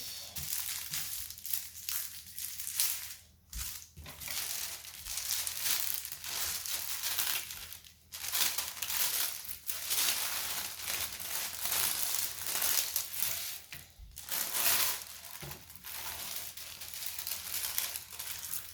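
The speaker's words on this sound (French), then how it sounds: "c'est un papier film assez fin et froissé" Thin, crumpled film paper from a diamond painting kit crinkles and crackles continuously as it is handled up close, with brief pauses and no talk over it.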